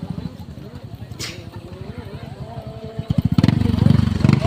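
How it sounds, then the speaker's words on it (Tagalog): A motorcycle engine putters nearby with a rapid pulsing beat that swells louder and faster near the end, while a person speaks over it. "Ano yung maingay, motor?"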